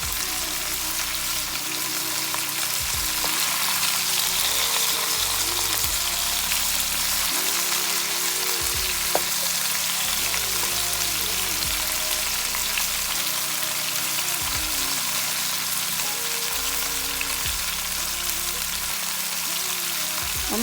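Oxtails frying in a pan over medium-high heat, a loud steady sizzle and spatter running continuously at close range, with a faint low hum beneath and no talk.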